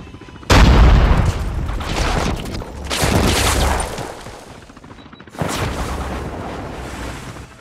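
Grenade blast and gunfire in the Call of Duty Mobile mobile shooter: a loud, close burst of explosion and shots, a second rumbling volley a few seconds later, then a final sharp burst.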